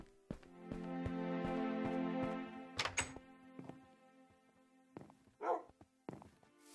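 Dogs in the Minecraft video game give several short, faint barks and whines in quick bursts, separated by soft thuds and quiet gaps.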